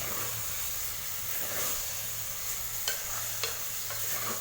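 Goat intestine curry with masala sizzles over a high flame while being stirred, a close steady frying hiss broken by a couple of sharp scrapes of the spoon against the pan, no voices.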